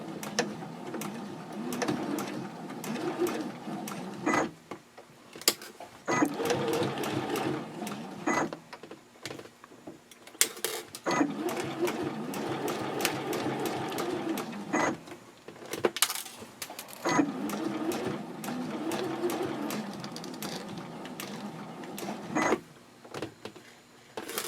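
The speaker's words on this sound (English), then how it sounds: "you can pivot and start sewing straight across" Sewing machine stitching a Chatelaine purse, running in steady bursts with short pauses while the fabric is pivoted, moderately loud and close with no talking.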